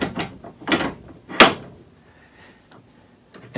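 A Versa Vise in a woodworking shop being repositioned and tightened: a few close, sharp metallic clunks and knocks spaced about half a second apart, with one loud clank followed by quieter shuffling, and no talk.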